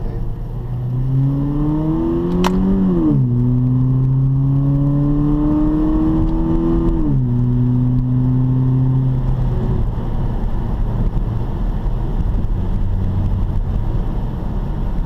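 A Mazda 3 accelerates through its gears using button paddle shifters, the engine note rising in pitch, dropping sharply at each shift, then climbing again, heard steadily from inside the car.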